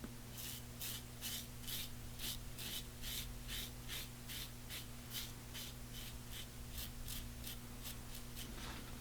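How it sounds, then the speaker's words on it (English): A Feather AS-D2 all-stainless-steel safety razor shaves face stubble in close, quiet, rhythmic rasping strokes, about two per second, evenly paced. "Very comfortable shaving."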